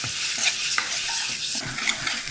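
Ground masala paste roasts in a hot pan for a Maharashtrian kat amti, giving a steady close sizzle broken by scraping stirs of a spoon, with no one talking.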